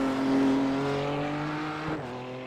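A race car in the iRacing sim downshifts under hard braking, its engine a steady, sustained drone with shifting pitch, heard alone and fairly quiet throughout.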